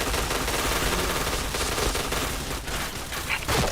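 Dense, continuous video game gunfire during a headshot chain, a loud unbroken barrage of rapid shots filling the whole moment with no pauses.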